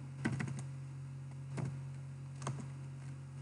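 Sparse keystrokes on a computer keyboard as a message is entered in a messaging app: a few faint, scattered clicks in small clusters over a steady low electrical hum, with no talk.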